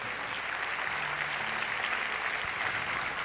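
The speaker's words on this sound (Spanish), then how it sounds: "Denle un aplauso fuerte al Señor." A church congregation applauds during a sermon, producing a continuous, fairly quiet rush of many people clapping together, with a faint low hum underneath and no speech.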